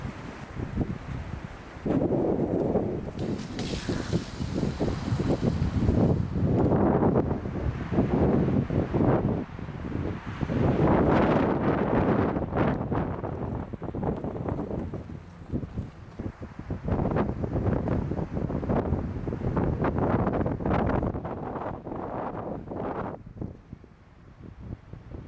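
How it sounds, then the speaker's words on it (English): Strong gusty wind buffets the microphone beside a creek, surging and easing in waves for the whole stretch, loud and close with no talk. "It's windy"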